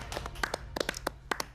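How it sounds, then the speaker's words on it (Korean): Scattered hand claps from a small group in a Korean TV studio, a dozen or so distinct sharp claps in an uneven rhythm, rather faint against a quiet background. "박수 한번 보내죠"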